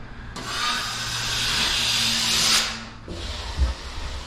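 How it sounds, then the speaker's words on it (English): A plastering trowel scrapes plaster off a plasterboard joint, one long, close, rough scraping stroke followed by a shorter, fainter scrape with a light knock. "Now I'm going to start taking it off by having this trowel on the same angle."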